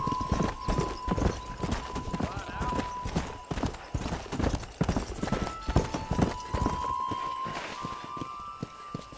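Galloping horse hooves from Red Dead Redemption beat in a rapid, steady clip-clop throughout, close and prominent, mixed with game music tones and occasional voices.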